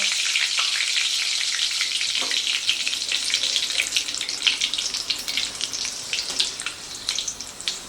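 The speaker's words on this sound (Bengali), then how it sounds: "তো এই কারি পাতাটাকে আমি প্রথমে ভেজে নেব।" Curry leaves crackle and sizzle in hot oil, a bright, continuous spitting hiss with small pops scattered throughout, close up.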